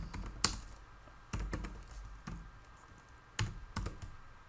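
Computer keyboard typing a MySQL database query, with a few sparse clusters of close key clicks separated by quiet gaps.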